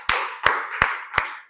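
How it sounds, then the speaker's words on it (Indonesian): Classroom applause from students after presenting their Quran Surah At-Tin calligraphy projects: four loud, sharp claps land in an even rhythm over a steady bed of group clapping, close by. "Tepuk tangan untuk kita semua."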